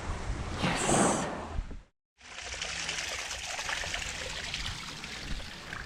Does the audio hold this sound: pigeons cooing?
no